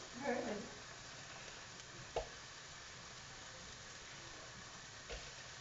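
Onions and mushrooms sizzle softly in a pan as they caramelize, a quiet continuous frying hiss with a brief stir near the start and a couple of faint knocks, close by with no talk.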